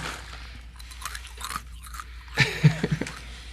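Crunchy food being chewed up close: a quiet stretch, then a cluster of three or four sharp, loud crunching bites near the end.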